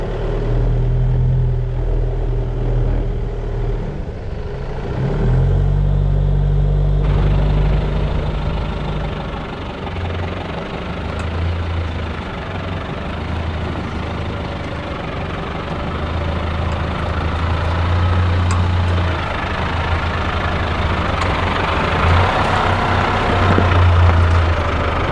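A 4WD engine runs steadily on a drive along the west coast of Tasmania toward Sandy Cape, a continuous low rumble with a faint higher whine, no talking.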